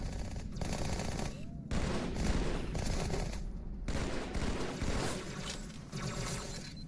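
Sustained rapid gunfire from enemies in the video game Halo 2, played on Legendary, with dense overlapping automatic bursts and pops running continuously at close range.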